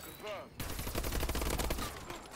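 Rapid automatic gunfire from the Inferno gun in Call of Duty Advanced Warfare, a dense continuous burst of crackling shots fired close up after a brief quieter moment with a faint whistle.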